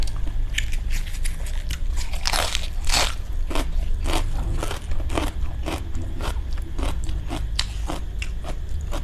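Crisp cabbage leaves are bitten and chewed close to the mouth, a steady series of loud wet crunches and crackles without any talking.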